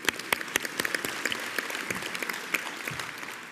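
Audience applause fills a conference opening plenary hall: a steady wash of many hands clapping, fairly faint and distant, with scattered sharper claps standing out.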